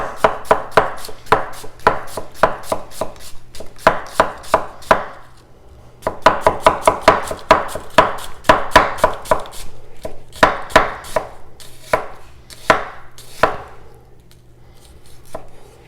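A knife chops an onion rapidly on a cutting board in quick bursts of sharp, close taps, pausing briefly between runs.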